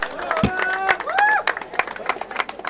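Scattered clapping from a small crowd at a cricket tournament prize distribution, with crisp individual claps rising and falling beneath a voice talking over them.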